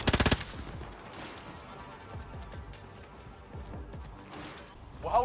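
Small-caliber gunfire in the Call of Duty Modern Warfare video game: a loud opening burst of rapid shots, then scattered distant pops and thuds under ongoing battle noise, with another sharp shot near the end.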